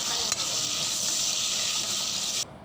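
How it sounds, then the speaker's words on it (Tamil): Onions and tomatoes sauté for mutton biryani, giving a steady, close sizzle with a soft hiss throughout that cuts off abruptly near the end. "நல்லா வதக்கிக்கோங்க."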